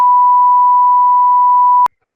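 A censor beep, one loud steady pure tone of just under two seconds that cuts off abruptly, followed by silence.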